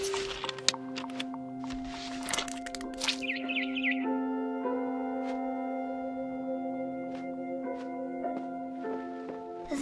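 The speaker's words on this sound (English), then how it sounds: "Then I heard chirping outside my window. It was a barn swallow going back to her nest." A barn swallow chirps outside a window in the video game What Remains of Edith Finch, with short bird calls over a steady tonal musical drone and a few sharp clicks, no talking.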